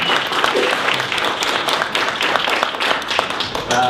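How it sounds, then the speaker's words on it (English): A room of attendees at a Los Angeles marketing meetup claps warmly to welcome a speaker, a loud, dense and steady round of applause from nearby hands lasting throughout, with no talk over it. "let's give Henry Balanon a warm round of applause and welcome him"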